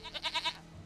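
A goat in The Witcher 3 video game gives a short, quavering bleat, four quick pulses close up, heard alone.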